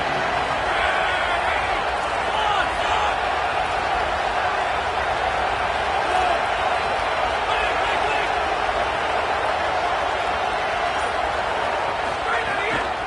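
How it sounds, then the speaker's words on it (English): A packed stadium crowd at an Ole Miss vs LSU football game roars in a constant, dense wall of cheering, with a commentator talking over it the whole time. "this crowd is ready"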